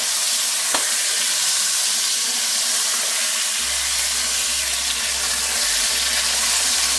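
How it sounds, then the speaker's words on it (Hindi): Chicken drumsticks frying in a pan, a steady broadband sizzle running throughout with a low hum coming in partway, no talking. "तो ये देखिए ये फ्राई हो चुकी है"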